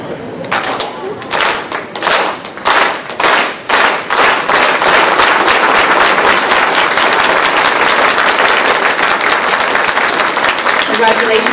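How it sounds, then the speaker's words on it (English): A crowd at a swearing-in ceremony for Santa Clara County District 2 Supervisor Betty Duong gives the traditional labor clap, starting as loud, evenly spaced unison claps that speed up and break into sustained, dense applause. "we offer Betty the traditional labor clap and applause"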